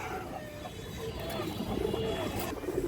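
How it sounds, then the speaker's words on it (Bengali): Indian high flyer Kaldom pigeons cooing softly in a loft, low murmuring coos repeating over steady background noise, with a faint voice now and then. "দুই পেয়ার ইন্ডিয়ান হাই ফ্লাই কালদম কবুতর"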